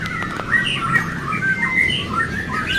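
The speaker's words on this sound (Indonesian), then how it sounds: "Di sini ada burung cucak hijau gacoran" A green leafbird (cucak hijau) sings at a bird market kiosk, giving a steady stream of bright, varied chirps and warbling phrases close by, with a faint crowd murmur underneath.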